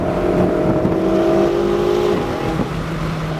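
A Ferrari on a race track driven at gentle, steady throttle gives a close, continuous engine drone whose tone rises slightly and then settles, heard alone without speech.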